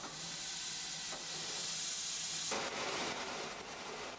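Bradley Manor, a restored steam locomotive on the West Somerset Railway, hisses steadily as its steam pressure builds, a constant broad rush of escaping steam that swells louder partway through.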